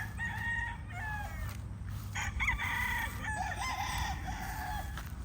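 Several solid, filled-out bullstag roosters crow one after another over a steady outdoor background rumble, with overlapping calls from nearby and farther birds.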